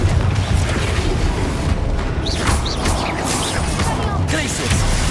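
Confringo spell blasts in Hogwarts Legacy combat, heavy booming impacts and crashes in a loud, dense battle mix, with short whistling streaks and voices under it.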